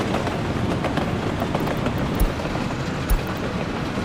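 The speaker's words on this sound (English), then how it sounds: "we can just watch this train ride" Train rolling on rails in Workers and Resources: Soviet Republic, a steady close rumble with a couple of heavy thumps from wheels on track joints.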